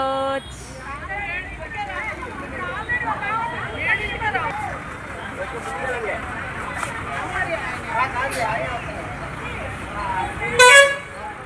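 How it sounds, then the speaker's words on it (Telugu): A tour bus pulls in on a road trip, its horn tooting in short repeated blasts, louder near the end, over a busy crowd of talking voices and traffic murmur. "మేమందరం ఫస్ట్ బస్ అయిన ఇదిగో మా బస్సు వచ్చేస్తుందో"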